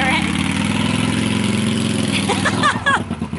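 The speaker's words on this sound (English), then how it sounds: "That's one of our ex-reenactors called Howard on his motorbike." A motorbike engine drones steadily and fairly loud at an outdoor historical reenactment event, its rumble dominating throughout before shifting and fading slightly near the end, with what may be voices faintly underneath.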